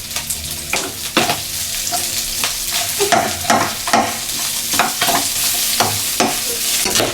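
Onion and garlic fry in a pan at home with a bright, continuous sizzle. Repeated scraping strokes of stirring break through at an uneven rhythm, close and fairly loud.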